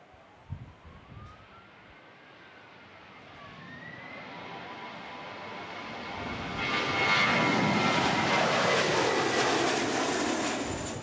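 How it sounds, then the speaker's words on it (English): An Air New Zealand Airbus aborting its landing at Wellington airport roars overhead, its jet engine noise swelling from a distant whine to a loud, sustained rush as the throttle comes up. "It forced this Air New Zealand Airbus to abort landing at the Wellington airport."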